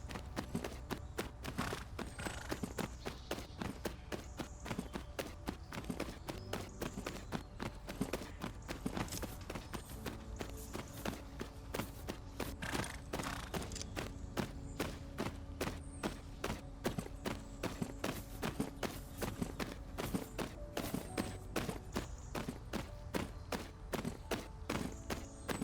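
Horse hooves trotting in the video game Tales of Rein Ravine during dressage movements, a steady rhythmic clip-clop of hoofbeats throughout over faint background sound.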